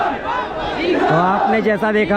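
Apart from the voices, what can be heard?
crowd of protesters chanting slogans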